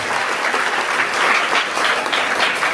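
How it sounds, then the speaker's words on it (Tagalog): An audience at a school graduation applauds the teachers with dense, sustained clapping from a crowd, loud and steady for the full stretch. "deserve nila ang mas malakas na palakpak. So palakpakan natin sila"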